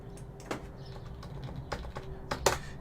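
Keystrokes on a cheap split computer keyboard, irregular close clicks with sharper taps around the middle and end, over a quiet low background hum.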